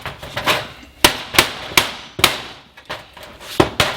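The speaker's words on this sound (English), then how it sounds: "I'm going to take a hammer and we're going to try to bend it in" Sharp, loud hammer blows strike metal at an uneven pace, bending a part on a Nissan Juke build, about eight ringing impacts close by, with no talking.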